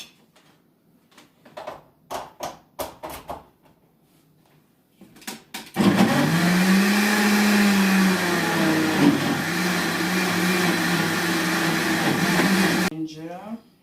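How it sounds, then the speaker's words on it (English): A blender whirs for about seven seconds as it blends ginger for a healthy drink: a loud, steady motor roar. Sharp clicks and knocks come before it starts, and it cuts off abruptly at the end. "And of course I'm going to blend it now."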